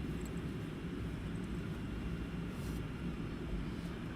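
An airplane taxis at Luton Airport as a faint, distant, steady low rumble with no clear rise or fall, heard alone without any talk.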